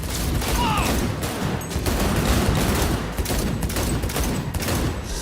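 Gunfire in Cyberpunk 2077, a loud, continuous barrage of rapid shots and impacts that fills the whole stretch with a dense, chaotic roar.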